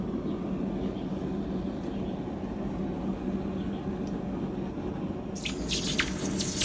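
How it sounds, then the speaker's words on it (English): Reheated copper strands from a forge plunge into water with a sharp, hissing burst near the end, following a low steady roar of background noise. "I'll reheat and quench to soften the copper some"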